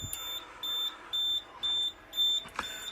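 A fire alarm panel sounds a trouble signal after a smoke detector is removed: four evenly spaced high electronic beeps, each about a third of a second, quiet and alone, ending with a brief click.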